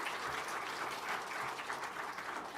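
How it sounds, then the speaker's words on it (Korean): Church congregation clapping during a Korean Sunday worship service, a steady dense wash of applause throughout the short stretch, moderately loud with no voices over it. "힘차게 박수해 주세요."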